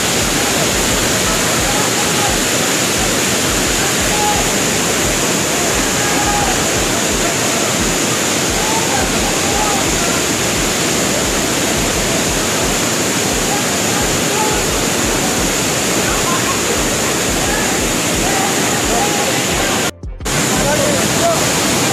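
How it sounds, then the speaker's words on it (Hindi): The Barabakhra Waterfall in Bargarh, Odisha, about 250 to 300 feet high, roars as a loud, unbroken wash of rushing water, with a short dip near the end. "तो फ्रेंड्स वाटरफॉल आपको कैसा लगा में ज़रूर बताइएगा"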